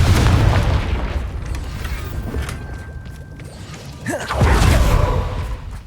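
In the Hogwarts Legacy video game, a Confringo fire spell is cast with a heavy booming blast, then a rumbling whoosh and a second burst of debris, loud and close.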